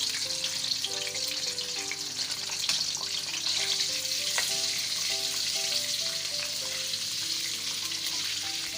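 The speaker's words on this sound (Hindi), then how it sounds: "इस साइड पे हम अपने अंडे तल लेते हैं" Boiled eggs fry in hot oil in a pan for an egg and potato curry, a steady close sizzle with occasional stirring scrapes running throughout.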